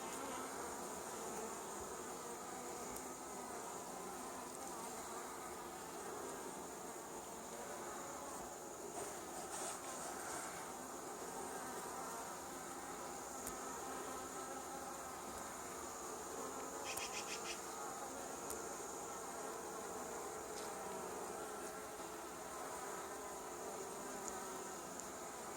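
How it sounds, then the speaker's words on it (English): Honey bees fan and buzz at a hive hours after a swarm was released into it, a dense steady hum held close throughout with no talking. "that bee's fanning"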